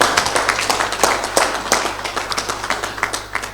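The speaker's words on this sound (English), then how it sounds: "Can we give him a round of applause?" An audience at a conference event breaks into applause, producing scattered, uneven clapping from a crowd, moderately loud and fairly close, continuing throughout with individual claps standing out over the general patter.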